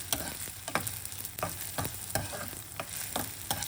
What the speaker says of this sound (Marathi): साबुदाणा आपण थोडासा परतून घेणार आहोत.